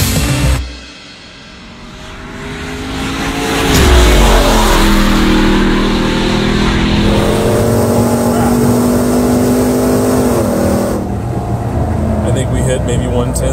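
A RAM TRX 6x6 pickup truck's engine rises and holds a steady drone as it drives off and accelerates, loud and close, with a voice speaking over part of it.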